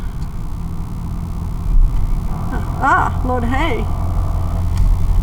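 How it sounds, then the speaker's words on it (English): An electric vacuum air pump, fitted on a truck in place of a belt-driven one, runs with a steady low growly drone throughout while someone speaks briefly over it. "That's my vacuum air pump, my electric vacuum air pump that replaced my belt-driven vacuum air pump on this truck."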